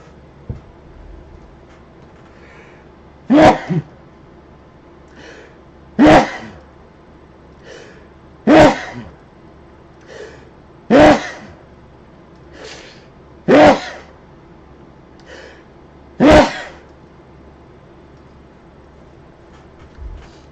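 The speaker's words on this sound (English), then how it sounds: "Sneezing off screen." A person sneezes six times in a steady series, each sharp burst spaced a few seconds apart, close and loud against a quiet background.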